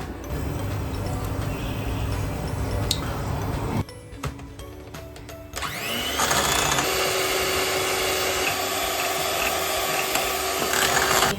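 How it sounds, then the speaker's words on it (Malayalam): Dream Whip powder with milk and vanilla essence is beaten into whipped cream, a steady close mechanical whirring that briefly drops away, then returns louder and continues to the end. "ഒരു കപ്പ് പാലും ഒരു മൂടി വാനില എസൻസും ചേർത്തിട്ട് നന്നായിട്ട് അടിച്ചെടുത്താൽ നമ്മളെ വിപ്പിംഗ് ക്രീം റെഡി"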